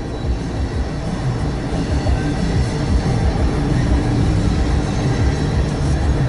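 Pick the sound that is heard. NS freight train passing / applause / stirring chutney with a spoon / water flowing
NS freight train passing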